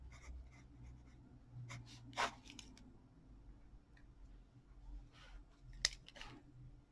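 Handwriting with a pen or marker while setting up a fractions lesson, quiet scratchy strokes in short bursts with brief pauses, close and faint.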